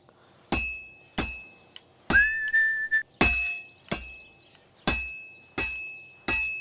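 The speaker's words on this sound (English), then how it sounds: "Now take the hammer and try hitting it a few times." A hammer strikes a sword blade on an anvil at a blacksmith's forge in Kingdom Come Deliverance 2, ringing out in eight evenly spaced metallic clangs with a brief whistling tone between two of them.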